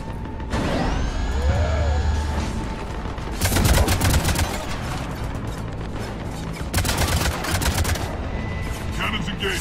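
Heavy cannons fire in the Mass Effect 3 sci-fi battle, loud rapid bursts of booming and clattering shots in two main volleys, layered with mechanical whirring and sweeping tones, while a voice speaks.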